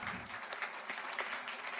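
Faint, steady applause from an audience at a school board meeting, a dense, even patter of clapping running throughout without any clear voices on top.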